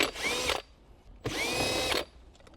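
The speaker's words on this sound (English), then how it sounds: "there's actually two 10mm bolts that we need to remove." A power drill spinning out 10mm bolts in the dash of a Lexus LS 460, two close, steady whirring bursts about half a second each, separated by a short pause, with a faint rattle trailing off.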